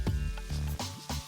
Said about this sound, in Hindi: अब थोड़ा सा जीरा, नॉर्थ इंडियन तड़का भी लगाऊंगी